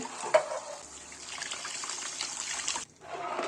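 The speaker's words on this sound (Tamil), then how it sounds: "நூறு எம்எல் தண்ணி சேர்த்துட்டு" Water poured into a pan of Chettinad fish curry masala, a steady trickling splash lasting a few seconds, close and moderately loud, then a brief pause before it resumes.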